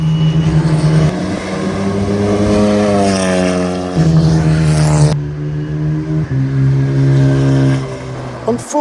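A loud, close engine of a Lamborghini Huracan race car with a turbocharged Honda K20 roars and revs through rising gear changes on a racetrack, pitch climbing and dropping as the car pulls away hard.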